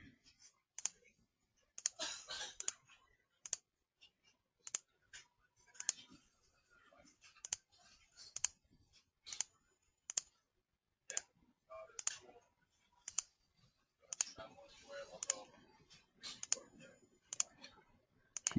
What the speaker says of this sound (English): just click down on the scroll button